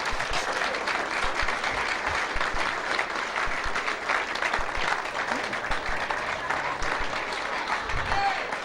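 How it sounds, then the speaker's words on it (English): A seated audience gives a steady round of applause at a lecture event, continuous dense clapping for the whole stretch with no talking on top. "That means that's a cue line for you to give her a round of applause."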